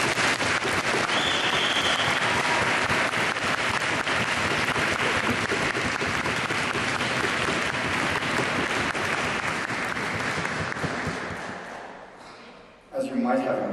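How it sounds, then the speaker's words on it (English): A hall audience at a 2009 World Schools Debating Championships semifinal between New Zealand and Singapore gives both teams loud, sustained applause. The clapping lasts about twelve seconds, then fades and dies out near the end. "I think both teams deserve a round of applause."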